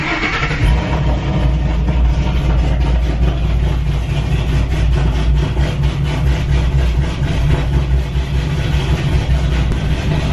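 A cammed Ford Mustang GT with a custom Lito tune, over 400 horsepower, fires up and settles into a loud, low, lumpy idle with a rhythmic chop, heard close and steady throughout.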